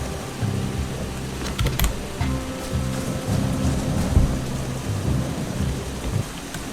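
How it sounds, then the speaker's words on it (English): Rain falls steadily in the video game Eschalon: Book II while low thunder rolls beneath it, with a few sharp clicks, at a moderate level and with no talking. "You know, this rain can fuck right off."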